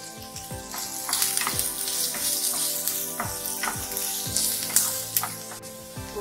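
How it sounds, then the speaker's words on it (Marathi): Onion sautés in a pan with ginger, garlic, salt and a spoon of oil, a dense crackling sizzle that runs throughout, with rhythmic scrapes of stirring and a few clinks against the pan. "आलं लसूण परतून घेऊया।"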